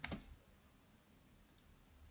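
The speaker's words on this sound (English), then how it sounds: "Clicking Enter to select this order" A single sharp key press on a computer keyboard, such as the Enter key, clicks once near the start and is followed by quiet room hiss.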